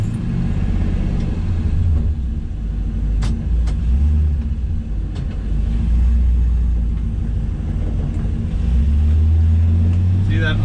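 A 1966 Chevy El Camino with an LS swap idles, its deep, uneven rumble lifting and surging as the idle climbs, close and continuous, with someone speaking over it.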